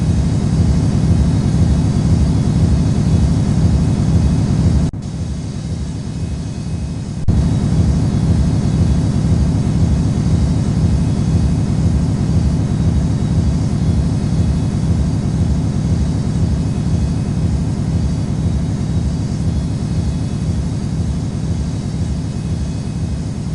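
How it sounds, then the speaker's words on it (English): An airliner takes off from runway 4 left at Newark airport, its engines a loud, steady, close roar with a brief dip partway through and no talking. "Cleared for takeoff runway 4 left"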